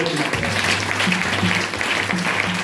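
Church congregation applauding and cheering loudly during a worship service, a dense, steady wash of clapping with voices underneath throughout.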